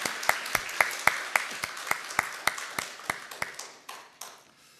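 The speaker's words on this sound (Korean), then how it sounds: "우리 격려의 박수 한번 하겠습니다." Slow, evenly spaced claps from a church congregation for the choir, about one every quarter second, sharp and ringing in a reverberant hall, thinning and fading near the end.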